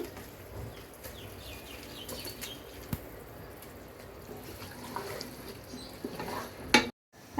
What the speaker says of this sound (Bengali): মশলা কষানো হয়ে গেছে এখন একটু একটু করে মাংস দিয়ে দিব এখানে